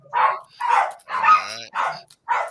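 A dog named Duke barks in a short series of five yips and barks, close and loud, with a voice mixed in.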